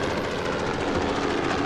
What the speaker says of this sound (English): as the helicopter clatters overhead